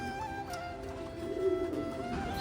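Belgian racer pigeons at a West Bengal pigeon farm coo in a steady low murmur, several birds close by with a soft swell midway, no talk.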